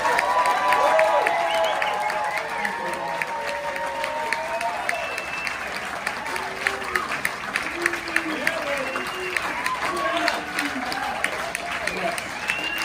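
A New York concert audience claps and cheers for the band's guitarist, steady applause with whoops and shouts scattered throughout, fairly loud and continuous.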